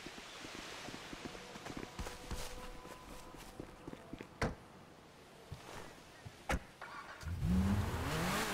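A car engine in GTA 5 idles and starts up faintly beneath scattered footsteps and clunks, with a few sharp door-like thuds, then the engine rises into a louder rev near the end.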